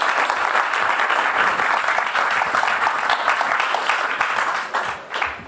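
A large audience at an expo stage event gives sustained, close and dense applause that holds steady, then tapers off near the end.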